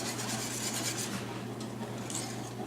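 Steady scraping and rubbing of a whisk through a thick, lumpy homemade laundry detergent mixture being stirred in a pot over heat, continuous and close with no talking.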